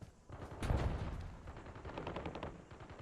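Rapid gunfire in the video game Call of Duty Warzone, a dense run of automatic shots with a sharp burst near the start, then steady crackling fire that sounds somewhat distant and muffled, with no talking over it.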